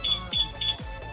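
A motorcycle alarm on a 2020 Yamaha NMAX chirps a locator signal, a rapid run of four short, bright electronic beeps close by, each with a low thump beneath.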